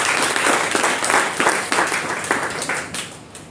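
A church congregation claps loudly and steadily in a sustained round of applause, dense clapping filling the room and easing slightly toward the end.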